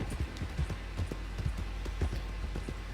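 Horse hooves clip-clop in a steady trotting rhythm while riding in Red Dead Redemption 2, dull low thuds repeating evenly and fairly close under faint ambient noise, with no talking.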